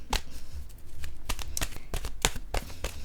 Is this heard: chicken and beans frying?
no